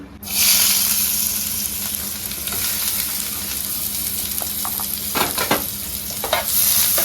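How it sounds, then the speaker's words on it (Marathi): Onion dropped into hot oil bursts into a loud, steady sizzle that continues throughout, with intermittent stirring scrapes toward the end. "तेल तापला काय टाकूचा कांदो"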